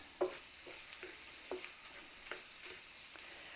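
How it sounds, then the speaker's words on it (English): Sausage browning in a pan gives a steady low sizzle, with a handful of soft scrapes and clicks from stirring at irregular intervals; quiet and close, with no talking. "we're going to cook this until the sausage is done, browned"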